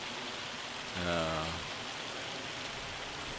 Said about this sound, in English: If I don't wait until the rain has stopped.